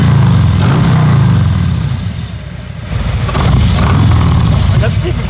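Harley-Davidson Road Glide motorcycle engine running loud and close, a deep low rumble that dips briefly and then swells as it revs, with people talking over it.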